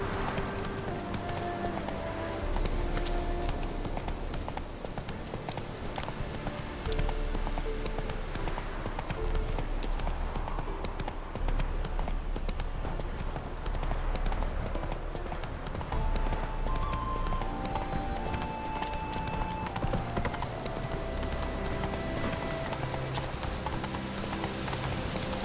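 Roach, a horse in The Witcher 3, gallops with rapid rhythmic clip-clop hoofbeats over a steady ambient backdrop, fairly close and continuous, with no talk.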